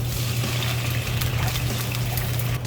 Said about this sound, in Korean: 양파 가 카라멜 라이징에 됐으면요 와인을 한 두 컵 정도 부어줍니다